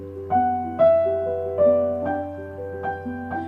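Piano phrase played with punched, vertical wrist motions: a few separate chords and notes struck with sharp attacks and short decays, close and moderately loud, with no talking.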